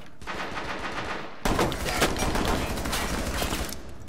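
Rapid automatic gunfire in Rainbow Six Siege rattles in dense continuous bursts, loud and close, with a sharper, heavier volley taking over partway through.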